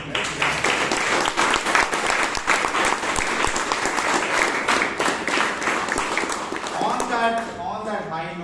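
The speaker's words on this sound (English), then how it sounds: "feel free to clap, and you can do that right now as well" A Toastmasters club meeting audience breaks into loud, steady clapping for several seconds, then the applause fades as a voice begins talking near the end.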